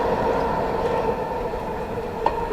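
A metro subway train runs with a steady, loud rumble of wheels and carriage noise, a sustained drone with a faint click near the end and no talk over it.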